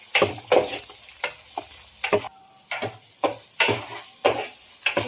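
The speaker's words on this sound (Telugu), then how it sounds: "ఎండు చేపలు కూడా వేసుకొని మొత్తం బాగా ఫ్రై చేసేసుకుంది." Dried fish fries in a pan with onion and green chilli, a steady sizzle broken by rhythmic scraping stir strokes of a spoon against the pan, close and clear.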